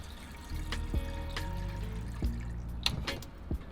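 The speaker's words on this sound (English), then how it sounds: "I'm just filling up the tank real quick, the water tank" Water runs steadily from a free gas station tap into a water tank, a continuous trickling fill with occasional louder splashes and clinks, heard close and alone.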